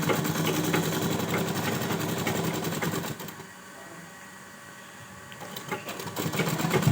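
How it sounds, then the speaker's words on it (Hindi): A sewing machine stitches a double-folded hem on a baby girl's dress with a continuous close mechanical hum. The hum drops lower for a couple of seconds in the middle, then picks back up. "फिर नीचे की तरफ उस पर सिलाई कर रही हूँ"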